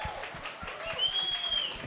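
Audience applause at a live music performance, a brief spread of scattered hand clapping with crowd noise, moderately distant and steady throughout.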